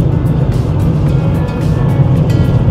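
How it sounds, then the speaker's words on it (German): A car rolls slowly over a freshly graded gravel road of loose stones in rural Finland, heard from inside as a steady, loud low rumble with faint scattered ticks of grit and no talking. "Die Steinchen, die sind alle ganz lose und da rutscht das Auto schnell."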